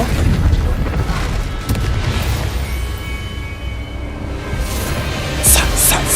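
Deep booming blasts from Bombarda and other explosive spells in the Hogwarts Legacy video game roll out loud and low, with a heavy rumble that swells again near the end alongside sharper bursts.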